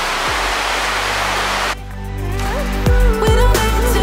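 Lost Creek Falls, a Tennessee waterfall, gives a loud, steady broadband rush for just under two seconds before music takes over and the water roar drops beneath it.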